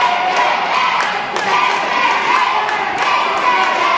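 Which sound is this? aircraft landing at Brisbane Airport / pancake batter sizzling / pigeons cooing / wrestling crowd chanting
wrestling crowd chanting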